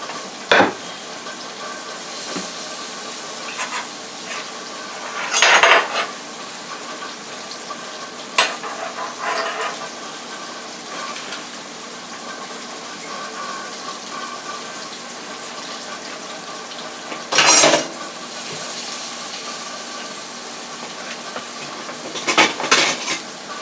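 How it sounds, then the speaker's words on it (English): Pork chops fry in a covered pan under a steady low sizzle, broken now and then by loud bursts of spitting and clattering pan and utensil sounds, with no voices. "so now we're still on the frying of the pork chops."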